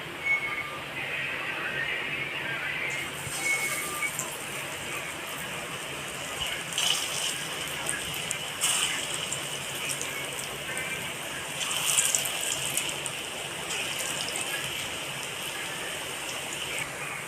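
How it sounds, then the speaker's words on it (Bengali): Potato pakoras fry in hot oil in a wok, giving a continuous hissing, bubbling sizzle that swells slightly now and then, heard close up and alone. "কড়ার তেল তো গরম হয়ে গেছে তো আমি এবার এই পকোড়াগুলো আস্তে আস্তে তেলের মধ্যে ছাড়বো"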